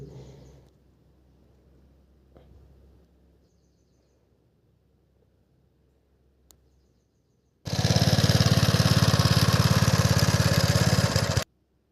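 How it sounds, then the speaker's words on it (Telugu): A pressure washer pump, used to wash a shed, kicks in abruptly after a quiet stretch with faint background noise and blasts out a loud, steady roaring hiss for about four seconds before cutting off. "ఇదే ఫ్రెండ్స్ మిషన్ షెడ్ కడిగేది. ఇలా కడుగుతాం ఆ మిషన్ యూజ్ చేసుకొని."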